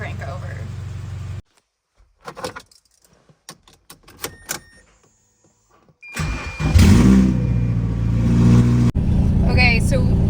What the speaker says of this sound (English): I've just gotten the MX-5's first start.